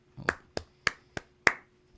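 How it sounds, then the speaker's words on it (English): A single hand clapped in a quiet room, giving five crisp, dry slaps at uneven intervals, close and fairly soft, with nothing else heard. "the single hand clap was appropriate for how tonight has went"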